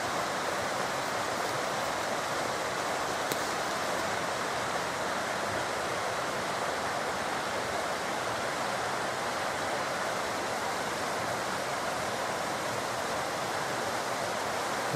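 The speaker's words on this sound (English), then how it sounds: "You've got a little waterfall there, have you? Oh yeah, oh, that's running off the field, isn't it?" A small waterfall of runoff spilling off a field on a countryside walk near Llangollen, a constant broadband rush of falling water that stays steady and fairly close for the whole stretch, with no voices.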